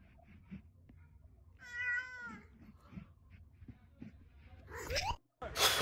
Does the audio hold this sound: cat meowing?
yes